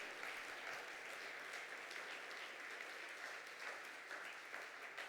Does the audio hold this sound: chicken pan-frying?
no